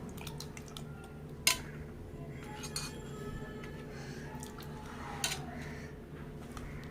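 A spoon stirs a South Indian sambar mixture in a pot, with occasional sharp metallic clinks over a wet, quiet background of sloshing. The sound is close but soft.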